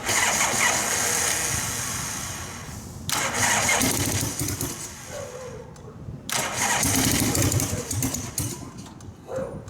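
A 1978 Harley-Davidson FXE with forward controls starts up cold, its engine bursting into a loud, close rumble that dips and surges twice as it is revved, with brief quiet gaps between runs.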